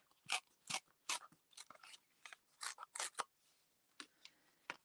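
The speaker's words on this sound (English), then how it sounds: "So you're just going to tear" Paper being torn along the edge of a greeting card, a series of short crisp ripping bursts with brief pauses between them, close and clear, no talking.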